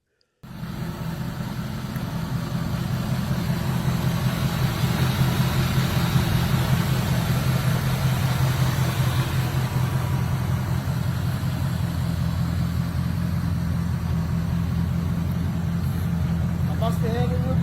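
A classic 1973 Ford Ranchero engine starts up and settles into a loud, steady, low idle that rumbles continuously and evenly from nearby.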